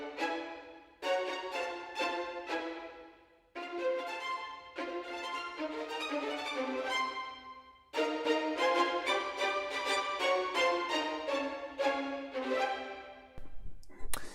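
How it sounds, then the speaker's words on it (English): A cinematic orchestral string section playing fast spiccato phrases from a sample library: biting, very short detached bow strokes in rhythmic runs, loud and close, with brief pauses between passages. "And the spiccatos kind of sound like this."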